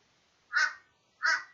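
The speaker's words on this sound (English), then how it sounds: "Hello, Mr. Crow" A crow gives two loud, close, harsh caws about 0.7 seconds apart against a quiet background.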